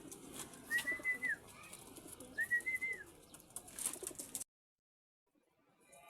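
Pigeons afflicted with pox coo in a few clear, rising and falling calls at moderate distance, then the sound cuts to near silence.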